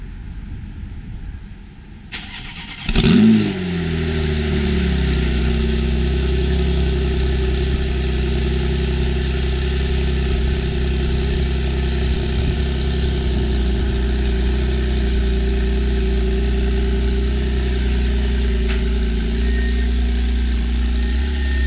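A 2018 Porsche 911 GTS (991.2) 3.0-litre twin-turbo flat-six cranks and fires up with a sharp rev on a cold start, then settles into a loud, steady, deep idle that drones on close by.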